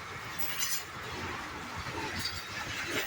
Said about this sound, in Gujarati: આવી ગયું ફાટક, નીકળી ટ્રેન, આપણે રહી ગયા ઊભા